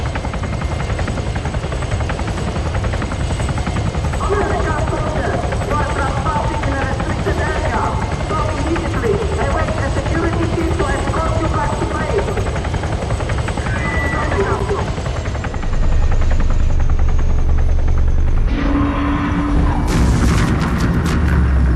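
A helicopter in the Arma 3 video game thumps out a continuous loud rotor chop, punctuated by booms and bursts of gunfire, while voices talk over the action.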